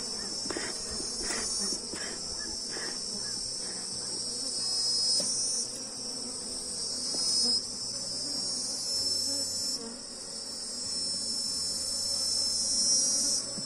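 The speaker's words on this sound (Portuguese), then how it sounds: "Mas é um enxame também que está bastante forte." Loud, steady buzzing of a strong honeybee colony at an opened hive, a dense continuous drone from many bees close by, with a few brief knocks and handling noises and no talk.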